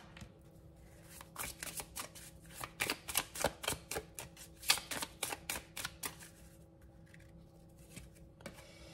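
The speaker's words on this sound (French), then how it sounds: "je prends la dernière carte." A tarot card drawn from a deck during a cartomancy reading, heard as a run of close, crisp paper clicks and flicks with no talking.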